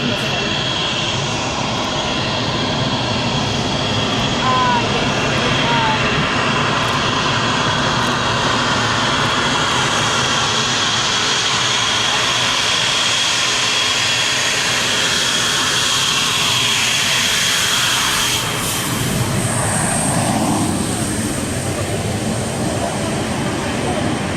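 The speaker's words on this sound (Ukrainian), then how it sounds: "на Луцькому аеродромі відбувся завершальний етап бойового навчання літаків" Military jet aircraft engines roar loudly and continuously at an airfield in Lutsk during combat training, a steady powerful rush that swells near the end as an aircraft passes close.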